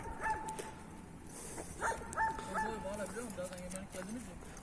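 Young dogs play with yips, whimpers and a few short barks, fairly faint and scattered, while people talk quietly nearby outdoors.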